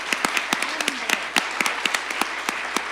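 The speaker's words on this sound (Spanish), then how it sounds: "no sé si podemos darles un aplauso a los panelistas" Sparse, distinct hand claps for panelists after a panel discussion ring out one after another in an uneven rhythm, as a few people clap in a quiet room.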